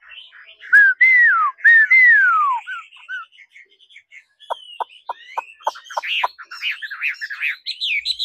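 A young Chinese hwamei songbird sings clear, slurred whistled phrases, then a run of quick sharp chirps and warbling notes, close and loud with no talk.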